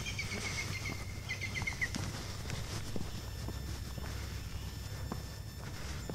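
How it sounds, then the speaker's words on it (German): Birds chirp in a rural landscape near Middelsgraaf along the Doortmaas hiking route, with bright trills early on over a steady outdoor hush and the soft scuff of a hiker's footsteps on a muddy path. "Und hör mal all die Vögel."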